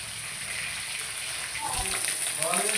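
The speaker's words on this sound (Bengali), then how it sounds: "দেখুন মাছগুলো আমার লাল লাল করে ভাজা হয়ে গেছে।" Tilapia pieces fry in hot oil with a steady, hissing sizzle, while a voice talks faintly under the crackle.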